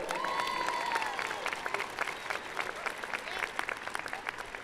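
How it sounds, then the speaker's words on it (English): Audience applause at a 2022 high school commencement ceremony, a dense, sustained wash of clapping from a large crowd with a whistle near the start. "You can clap for that."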